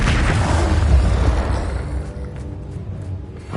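Bombarda explosion spell cast in Hogwarts Legacy: a loud, close blast booming out at the start, then a rumbling decay that fades slowly over a few seconds, with no voices.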